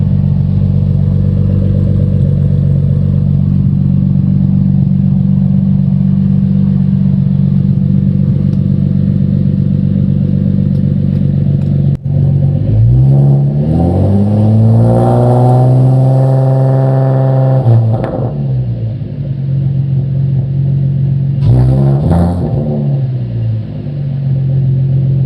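A car with a modified, raspy aftermarket exhaust idles loudly and steadily, then revs up and down twice with rising and falling engine pitch, close and alone.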